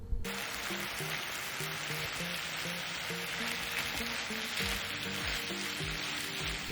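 Cooked rice sizzles in a hot pan for Korean kimchi fried rice, giving a steady, loud frying hiss from start to finish. A repeating musical pattern plays underneath.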